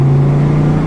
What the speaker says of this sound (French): c'est pas une voiture qui est mélodieuse, mais c'est tellement enivrant cette sonorité sourde